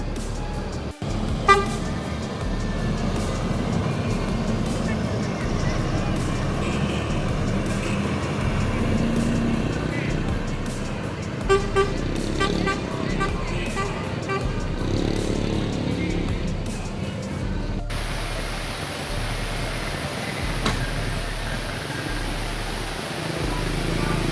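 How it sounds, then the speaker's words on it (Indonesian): At the busy Solo bus terminal, a Dream Class coach readies to leave the Miyor pool after boarding passengers, with engines rumbling, repeated horn toots, and other vehicles moving nearby, as someone talks over the steady din. "ini ada Dream Class yang akan bersiap-siap meninggalkan Terminal Bada Solo setelah menaikkan beberapa penumpang di pool Mior di dalam Terminal Bada Solo"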